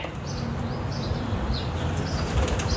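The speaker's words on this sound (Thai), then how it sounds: "พิราบเต็มเลย ออกไปเดี๋ยวนี้เลย" Pigeons flapping their wings around a house, a continuous rustling flutter of many birds close by, steady and fairly loud with no talk.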